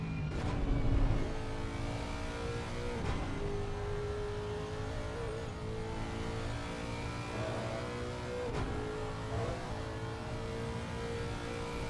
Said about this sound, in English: You could hear the sound of the engine just hitting the rev limiter